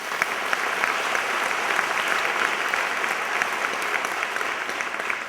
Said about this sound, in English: one big applause for brave Iranian women